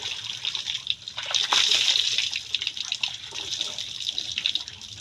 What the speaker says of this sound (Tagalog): Magsabon ng maayos, hindi yung puro ka ng buhos.